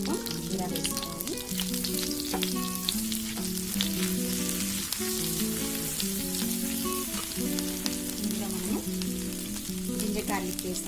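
Cumin seeds fry in hot butter for a paneer curry, a loud continuous sizzle with crackling pops and stirring, over a steady background of music.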